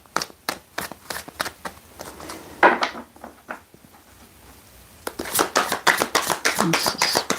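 Tarot cards being shuffled by hand, a quick run of crisp riffling snaps and slaps, pausing briefly midway before a denser, louder burst of rapid card flicks, close up and with no talk.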